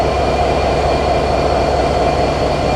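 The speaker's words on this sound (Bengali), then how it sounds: "আমাদের মধুমতি এক্সপ্রেসের লোকোমোটিভ একদম নতুন এই ছেষট্টি সিরিজের" A new Bangladesh Railway 66 series locomotive hauling the Madhumati Express, heard as a loud, steady engine drone and rumble that holds constant throughout, with no talk over it.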